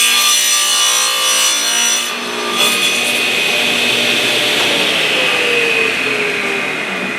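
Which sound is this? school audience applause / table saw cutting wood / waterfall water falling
table saw cutting wood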